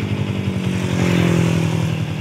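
A motorcycle engine, one of a group that includes a Yamaha Y and an LC, runs close by with a steady, pulsing idle rumble and a faint metallic clatter throughout.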